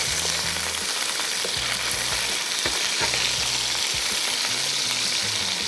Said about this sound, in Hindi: तो इसको थोड़ा सा किया फ्राई,